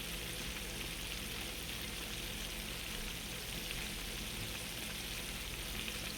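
Farm-raised catfish deep frying in oil, a dense, even bubbling sizzle that holds steady and fairly quiet the whole time with no breaks.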